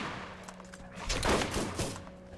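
Sniper rifle shots ring out in Borderlands: a few sharp, moderately loud reports with short echoing tails, over a steady background hum and no talking.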